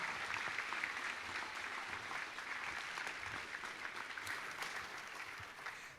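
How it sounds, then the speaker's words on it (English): Audience at a school heritage commitment ceremony applauding cosmetology students, continuous dense clapping that holds steady for several seconds before easing slightly at the end. "Round of applause for that area of cosmetology."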